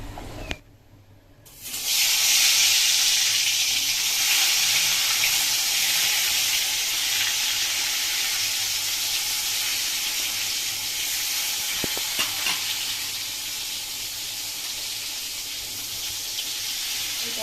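Steady, loud sizzling and hissing of papad frying in hot oil, continuous after a brief quiet start, with a faint clink near the end.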